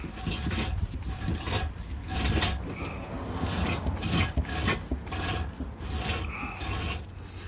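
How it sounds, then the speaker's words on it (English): Hand pump drawing differential oil from a BMW E60, now sucking air: a continuous raspy, gurgling rub with repeated pumping strokes, close and steady throughout. "Alright, so I'm going to keep pumping away. Just starting to get some air now."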